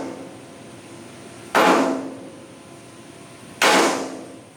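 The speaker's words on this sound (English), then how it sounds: "make some slight adjustments to the angle of the hull side with his sledgehammer" Two heavy sledgehammer blows ring out against the steel hull side of a KV-1S tank under assembly, each a loud close strike with a ringing decay, spaced about two seconds apart.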